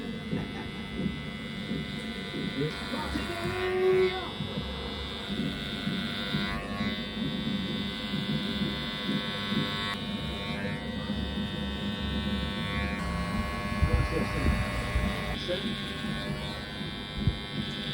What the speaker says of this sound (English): Use your trimmer to shape the haircut.